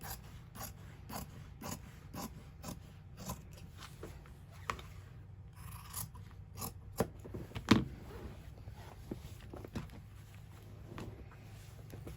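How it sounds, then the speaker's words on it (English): Quiet, repeated snipping of scissors cutting through fabric for a cushion cover, irregular clicks and rasps spread over several seconds with one sharper snip midway. "And cut it with some scissors."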